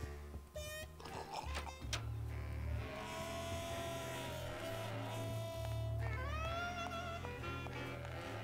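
Cat meows from the adventure game Grim Fandango ring out over a steady musical backdrop, with several short cries spread across the clip at moderate loudness.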